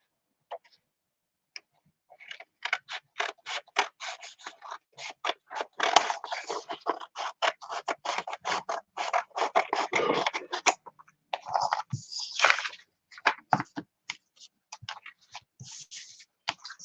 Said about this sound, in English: So we're gonna cut off all this excess.